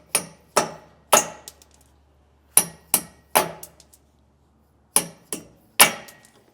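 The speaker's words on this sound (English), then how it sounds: "just tap them with a hammer" Sharp metallic hammer taps knock against trailer wheel studs during a disc brake install on a 2018 Keystone Cougar. The strikes come in quick clusters of two or three with brief pauses between groups, close and crisp.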